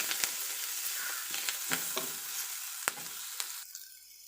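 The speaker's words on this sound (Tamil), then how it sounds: "இப்போ வெங்காயம் இந்த அளவுக்கு வதங்கினது" Onions sauté in a pan for sambar, a bright close sizzle broken by several sharp spatula scrapes and knocks, easing off near the end with no talking.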